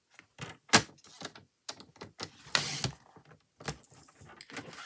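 A paper trimmer slicing pieces of card stock, giving sharp sliding cuts and thunks spaced irregularly with brief quiet gaps between strokes, close and fairly loud.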